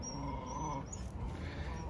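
Several dogs whimpering and yipping close by, restless little cries over a steady low background, with no clear barking.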